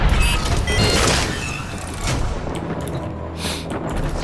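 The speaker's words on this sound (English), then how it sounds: "Cruise ship reactor has detonated." A cruise ship reactor detonates in the space combat game Nightwave, a loud rumbling blast with crackling debris that rolls on and fades, swelling briefly again near the end.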